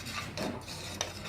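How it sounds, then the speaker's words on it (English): A spoon scrapes and stirs no-bake cookie mixture in a pan on the stove, a few soft, close strokes with a light clink against the metal. "So I'm going to make sure it's stirred up."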